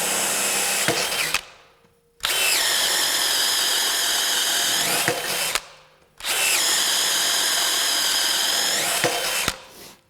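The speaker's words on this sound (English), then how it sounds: "let's go with a 1-inch auger bit self-feed into this" A cordless drill drives a 1-inch self-feed auger bit into treated lumber in two long, loud boring runs, each winding up sharply and then cutting off, separated by brief silences.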